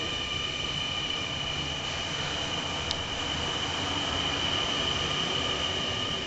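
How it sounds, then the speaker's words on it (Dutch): Inside a moving train, a steady, dense rumble of wheels on track fills the carriage, with a faint high whine running throughout. The sound holds constant, with no talk. "ik ben er net weer in een trein gezet."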